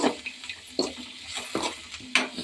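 Onions and tomato fry in a pan and get stirred, giving soft sizzling broken by about four or five scraping stirs of a spoon against the pan, close and alone.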